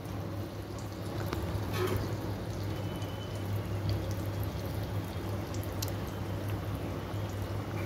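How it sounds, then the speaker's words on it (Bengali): Mango and rice-flour pakan pitha frying slowly in oil over medium-low heat, a steady soft bubbling and fizzing hiss that continues evenly throughout with a low hum beneath. "এই পিঠেটা ধীরে ধীরে ভাজতে হবে"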